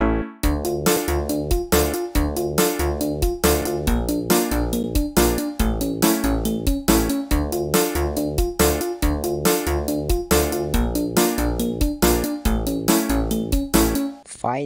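A programmed drum beat built in FL Studio thumps at a steady tempo, with punchy kicks, snappy snares and ticking hi-hats in a dense, loud, even loop.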